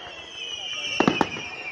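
Fireworks at a pirate fireworks show: three sharp bangs in close succession, near the midpoint, over a steady hiss of crowd and background noise, with some murmuring voices.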